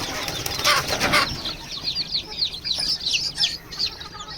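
Village (gavti) chickens cluck and chatter in quick, overlapping calls, with a burst of louder squawking and rustling early on, fairly close by.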